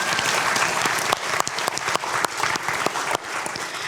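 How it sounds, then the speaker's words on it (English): Steady, enthusiastic applause from an audience at a talk, many hands clapping densely and evenly for a few seconds with no voices. "A round of applause for that."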